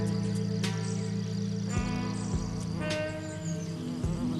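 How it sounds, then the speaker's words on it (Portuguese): Wasps hover and buzz around a bee orchid flower, a steady close insect drone with a few louder passes sweeping by, no talk. "Estas vespas estão procurando amor."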